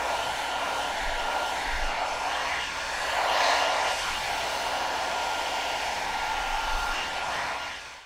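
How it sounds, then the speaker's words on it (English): A T3 Afar travel hair dryer blows hair dry from underneath with a round brush, giving a steady, close, continuous airflow roar that swells slightly midway, with no talking. "you can go ahead blow dry from underneath to really raise that root"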